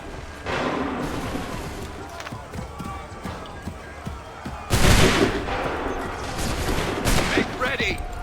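Musket volleys in Assassin's Creed III, a ragged crackle of scattered shots followed by a louder, dense burst of fire, mixed with shouted commands and battlefield noise.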